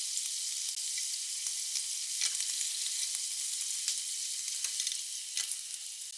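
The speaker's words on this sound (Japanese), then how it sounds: "油小さじ2を加えて煮詰めています。" Sauce with two teaspoons of oil simmers down in a frying pan for a lunchbox dish, a steady close hiss and sizzle with small crackling pops throughout.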